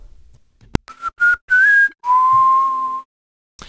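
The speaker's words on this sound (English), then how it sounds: "I was whistling pretty quietly into the microphone" Quiet whistling recorded close into a microphone: a short tap, then several brief whistled notes and one long held tone, each separated by silence.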